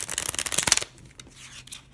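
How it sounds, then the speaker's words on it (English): Rider-Waite tarot cards riffle-shuffled by hand, a quick burst of crisp flapping riffles up close, then a softer trailing rustle as the deck settles. "it's easier to do that regular playing card shuffle that we all know and love"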